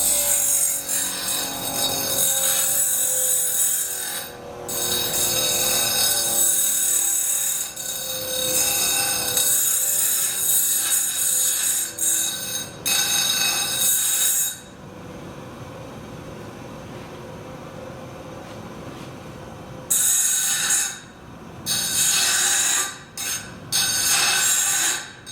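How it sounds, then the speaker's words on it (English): Sharp burrs being ground off the corners of cut metal tubing with a power tool, a loud harsh whine that runs in long bursts with pauses between passes, close by. "the next step, very often, is to grind down those corners a little bit"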